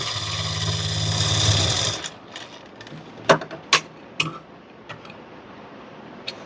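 A sewing machine runs in a steady continuous whir while stitching elastic into a pair of pants, then stops, followed by a few sharp clicks and taps of handling.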